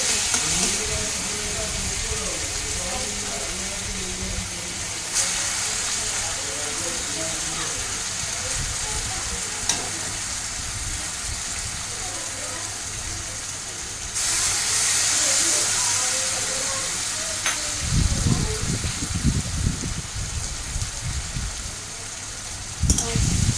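Chopped garlic, bay leaf and whole garam masala frying in hot oil for a chicken curry, a steady hiss and sizzle running throughout, with a voice talking over it and brief louder bursts near the end.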